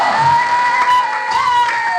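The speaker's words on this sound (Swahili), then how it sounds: "Kila mwenye waya mpigie Bwana makofi na vigelegele" A church congregation claps and ululates in praise, a dense, lively wall of cheering and high trilling voices that holds steady throughout.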